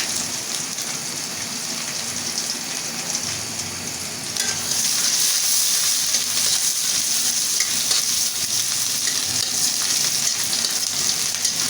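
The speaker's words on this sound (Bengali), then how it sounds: "পেঁয়াজটা আমি একটু লাল লাল করে ভাজি করে নেবো" Onions frying in hot oil until reddish, a steady dense sizzle with a rain-like crackle that grows louder partway through and then holds evenly, with no talking.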